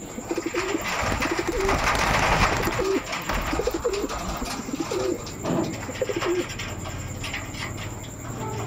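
Domestic pigeons coo in repeated soft, throaty phrases close by, several birds overlapping in a loose rhythm against a faint background hum.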